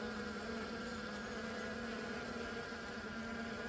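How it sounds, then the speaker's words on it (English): Honey bees buzz steadily at a beehive during a new-queen introduction, a dense continuous hum of many insects close by, unbroken and without voices. "we have a bee going in and looking at the candy"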